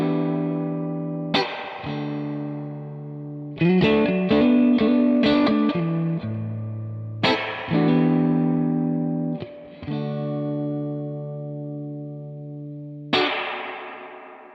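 Electric guitar through a Crazy Tube Circuits White Whale V2 spring reverb pedal on its long setting, with sustained chords and quick picked notes trailing into long washy spring decay, loud and alone.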